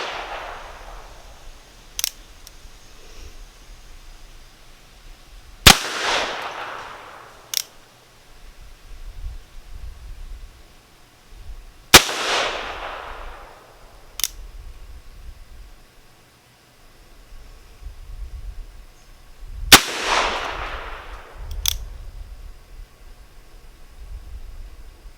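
Four loud, sharp shots from an 1851 cap and ball revolver, each with a long trailing echo, spaced about six seconds apart, with faint clicks and handling noises in between.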